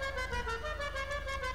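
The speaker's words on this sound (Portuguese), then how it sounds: "As buzinas temos de Halloween, temos duas" Car horn on a modified Albany Lurcher in GTA V, a steady sustained tonal honk held for the whole moment with no talk over it.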